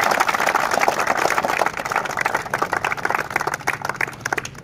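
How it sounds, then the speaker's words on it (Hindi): Applause breaks out to welcome an army academy student who cleared recruitment rallies, a steady patter of many hands clapping close by, sustained and even for several seconds. "एक बार जोरदार तालियां है।"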